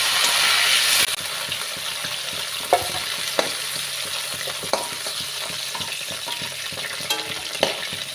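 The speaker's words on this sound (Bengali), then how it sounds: "এবার ব্রোকলিগুলোকে ভেজে তুলে নেব" Broccoli frying in hot oil crackles and sizzles steadily up close, a louder burst at the start settling into an even hiss punctuated by several sharp knocks of a spatula.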